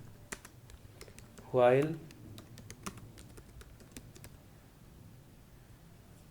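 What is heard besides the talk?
typing on a computer keyboard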